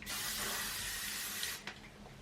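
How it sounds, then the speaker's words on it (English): Hairspray from an aerosol can is sprayed onto hair roots in one steady hiss that lasts about a second and a half and then cuts off, close to the ear. "I go in with hairspray and just spray all my roots"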